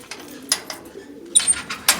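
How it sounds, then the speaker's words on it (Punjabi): Pigeons in a loft in Ludhiana district give soft, repeated coos and short throaty calls close by, with a faint rustle of movement between them. "ਅੱਜ ਆਪਾਂ ਤੁਹਾਨੂੰ ਦਿਖਾਉਣ ਜਾ ਰਹੇ ਹਾਂ ਕਾਕਾ ਭੱਟੀਆਂ ਦੇ ਕਬੂਤਰ"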